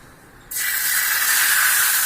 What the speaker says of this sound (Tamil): இப்போ தோசை கல்லில் ஊற்றிடலாம்.